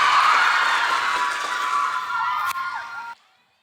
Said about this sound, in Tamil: நல்ல ஒரு கைத்தட்டல் கொடுக்கலாமே வின்னருக்கு